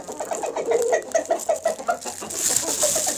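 Loman Brown laying hens cluck in a run of short, fairly close calls, followed by a softer hiss of background noise near the end.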